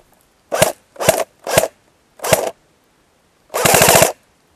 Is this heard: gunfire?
yes